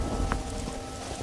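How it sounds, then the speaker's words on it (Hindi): Unseasonal winter rain in a storm, falling as a dense, steady hiss of rain with a low wind rumble underneath, continuous and fairly faint throughout. "धीरे धीरे बारिश बढ़ जाती है और चारों तरफ पानी ही पानी हो गया था"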